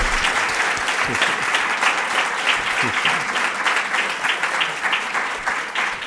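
Sustained applause from a medical conference audience, dense and even clapping throughout at a steady loud level.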